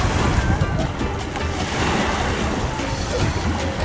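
Surf washing onto a sandy beach, a steady broad wash of waves with some wind noise, continuous and fairly loud with no distinct breaks.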